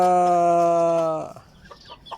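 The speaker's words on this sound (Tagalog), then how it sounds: "alaga kong manok dito mga kabakyard" A gamecock lets out a long, loud crowing call, followed by a few soft, scattered clucks nearby in a backyard.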